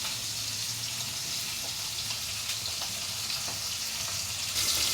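Spices being lightly dry-roasted in a pan give off a steady, soft sizzling crackle with faint scraping, continuous and moderately close, with no voices.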